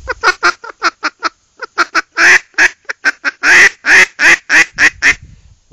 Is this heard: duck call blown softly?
yes